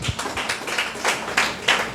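Audience clapping during a church equipping session, a loose patter of hand claps with uneven rhythm and a few louder bursts, moderately close and steady throughout.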